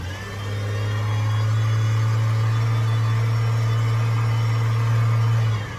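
A Chevrolet Trailblazer engine with a fault climbs from idle to a steady, loud drone that tops out at about 2,200 RPM, holds there for several seconds, then drops back, with no voices.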